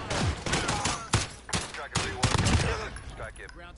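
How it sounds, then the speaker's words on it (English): An airstrike pounds down in a Call of Duty-style battle royale, a rapid series of loud, sharp explosive blasts and crackling gunfire bursts up close, with some voice chatter mixed in. "I accidentally dropped an airstrike on us."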